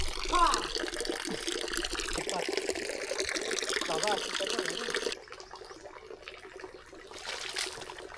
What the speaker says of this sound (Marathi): गायमुख गोमुखातून पाणी चालू असतं 24 तास